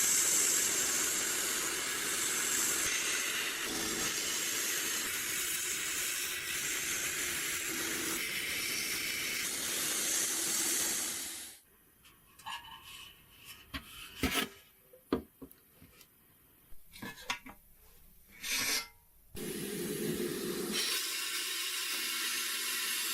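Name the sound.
high-pressure sandblasting stripping paint and rust from metal casing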